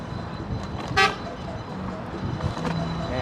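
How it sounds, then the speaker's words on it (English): A single short car horn toot rings out over steady road traffic on the Grand Concourse in the Bronx, New York City, with faint voices in the background. "And what's with all these cars beeping behind me?"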